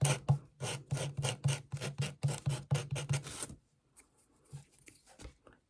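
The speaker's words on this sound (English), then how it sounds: "I'll just hit it with sandpaper" Sandpaper rasps back and forth over a wooden bonsai root tool in about a dozen quick, even strokes, close and crisp, then stops, leaving a few faint taps.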